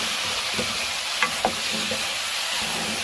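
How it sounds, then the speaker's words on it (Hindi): Mutton frying in a karahi pan, stirred now and then, with a steady close sizzle and a few soft scraping clicks over it. No one speaks. "इसको मैं 5 से 10 मिनट तक मटन को भूनेंगे।"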